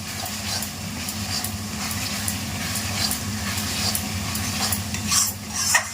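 Mutton goat meat sizzles in a hot pan while a utensil stirs and scrapes it, a steady fry with low hum beneath and a few louder clinks toward the end, no talking.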